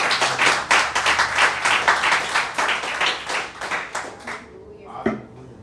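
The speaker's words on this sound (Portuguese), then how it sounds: "Dê uma salva de palmas ao Senhor." A church congregation clapping hands during a service, rhythmic group clapping with loud, even beats that carries for several seconds and then stops abruptly, followed by a single sharp knock.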